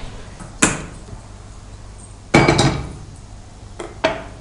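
A metal kadai handled on a kitchen stove, giving three sharp clanks and scrapes spaced over a few seconds, with a loud ringing knock in the middle, then brief dull taps.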